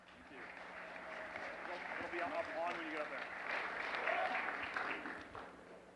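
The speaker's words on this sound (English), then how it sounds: "Let's give him a huge round of applause." An audience applauds a pitch presenter at a startup funding competition final, a moderate, steady clapping that swells slightly, with a voice speaking over it.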